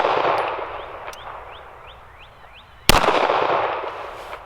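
Shots from a Smith & Wesson 5906 PPC 9mm pistol with a 6-inch barrel ring out at an outdoor range, one sharp loud report standing out after a quieter stretch with fainter pops and metallic target pings.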